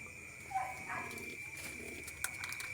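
Soft pigeon cooing repeats against a steady outdoor hiss and a high, constant whine, fairly faint and unhurried.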